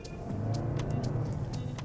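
A Toyota Highlander Hybrid's gas engine starts up and pulls steadily under acceleration, giving a smooth, continuous low rumble from inside the cabin that holds level for about two seconds with no talk over it.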